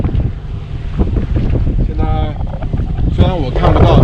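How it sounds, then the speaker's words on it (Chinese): Strong wind at sea, around 8 to 10 metres per second, buffets a sailboat during a thunderstorm. It makes a loud, continuous rushing roar with microphone wind noise, and a voice is briefly audible beneath it. "现在的风呢也不是特别的大，我看平均在8米到10米左右的样子"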